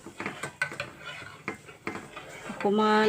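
Curdling milk for homemade cake cream being stirred in a pot with a spoon, a series of close knocks and scrapes at uneven intervals, with a faint voice.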